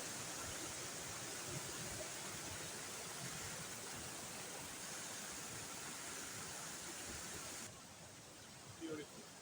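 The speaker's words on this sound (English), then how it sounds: "There is no better sound than the sound of water splashing." Continuous rushing splash of a forest waterfall, broad and steady at moderate distance, easing slightly near the end with a brief small knock, no voices.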